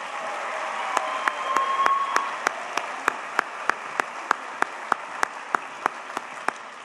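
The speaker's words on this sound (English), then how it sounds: "Please give a round of applause to members of the Pillion High JROTC" An audience at a Teacher of the Year celebration honors high school JROTC cadets with applause: a soft crowd clap underneath, with one sharp, steady, rhythmic clap near the microphone repeating about every third of a second.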